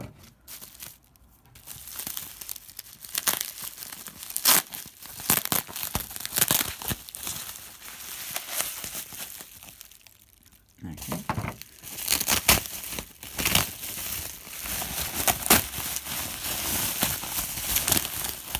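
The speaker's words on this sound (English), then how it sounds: "once I've finished unwrapping the bubble wrap" Bubble wrap being pulled off a parcel of boxed Japanese auction goods, with close crinkling, rustling and tearing in repeated bursts, a brief quieter gap midway, and a voice talking over parts of it.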